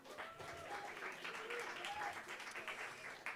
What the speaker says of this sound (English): our dean, Robert Lango, a big applause for Rob as well.